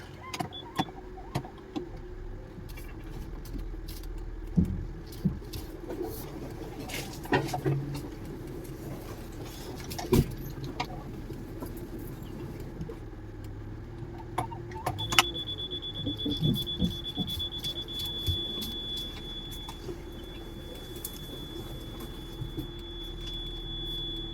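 A car reverses slowly along a forest road near Jim Corbett between Ramnagar and Mohan, with a low steady engine hum, scattered clicks and knocks, and a thin high reversing tone that begins partway through and holds to the end.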